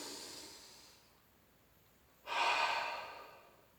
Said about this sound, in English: Take a big breath and then an audible exhale.